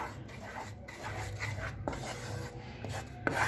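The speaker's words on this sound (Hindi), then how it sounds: "गुड़ हमारा मेल्ट हो चुका है, इसको हम लगातार चलाते रहेंगे" A spoon stirs melted jaggery in a pan for peanut chikki, giving soft continuous scraping and rubbing strokes with a few sharper clicks, quiet and close.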